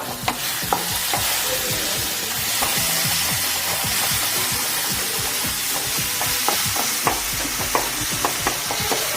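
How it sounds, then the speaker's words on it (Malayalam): Chicken leg pieces cooking in a hot pan are stirred steadily, a close, continuous sizzle and fry with repeated scraping and knocking from the spoon throughout, with no voices. "അടുപ്പൊന്ന് തുറന്ന് നന്നായിട്ടൊന്ന് ഇളക്കി കൊടുക്കാം കേട്ടോ"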